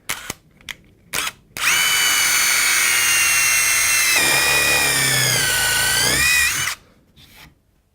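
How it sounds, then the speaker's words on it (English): An impact driver spins a Trend plug cutter bit into wood. Short start-up bursts lead into about five seconds of loud, steady, high whining drive with a rattling impact tone that shifts pitch midway, then the tool stops. "this is an application we can do with an impact driver"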